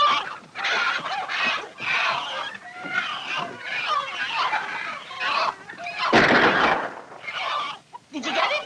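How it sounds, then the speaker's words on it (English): Hens squawk and cackle in a panic as a fox raids the hen house, with loud, dense, agitated clucking and flapping close by for several seconds while someone shouts over them. "The fox! The fox is in my hen house!"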